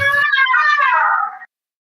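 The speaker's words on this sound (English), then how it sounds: "Is it a cat fight?" A single cat's drawn-out, wavering meow heard over a livestreamed meeting call, loud and close, rising then falling before cutting off abruptly, with a brief noisy burst at the start.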